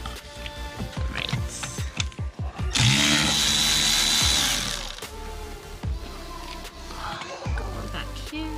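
Ratchet wrench turning valve cover bolts on a BMW E28 engine, quick clicking bursts repeated through the clip with a louder mechanical stretch in the middle, close and fairly loud.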